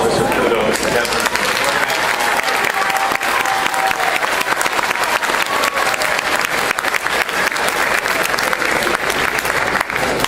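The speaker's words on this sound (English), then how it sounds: "Let's give a big round of applause for Mr. Kudo, Mr. Kemper." An audience at a senior oratorical contest gives a long round of applause, with dense, loud, continuous clapping from a crowd filling the room from start to finish.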